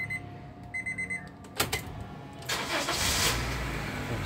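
A Honda Mobilio's engine is started: a few warning beeps, then the starter cranks briefly before the engine catches and settles into a steady idle, heard close up.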